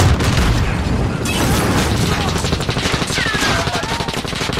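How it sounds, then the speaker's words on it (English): Rapid automatic gunfire and booming shots in the video game Call of Duty: Modern Warfare (2019), loud dense bursts that continue throughout. "Oh, that gunfire is stupid."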